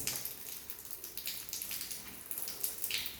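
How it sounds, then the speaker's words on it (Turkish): Tap water runs steadily from a faucet during handwashing, a continuous soft hiss and splash that holds at an even level throughout, close by with no talking. "Deterjanımızı aldıktan sonra suyumuzu açıyoruz."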